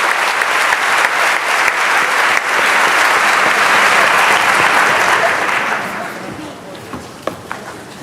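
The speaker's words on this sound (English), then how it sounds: "One more round of applause as they head back to their seats" Crowd at a school opening day event applauds as a group returns to their seats, dense sustained clapping that fades after several seconds into a few scattered claps.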